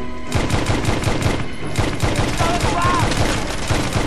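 Loud, rapid bursts of blind-fire gunshots in the video game Wanted: Weapons of Fate, cracking out in a steady, close rhythm across the whole stretch.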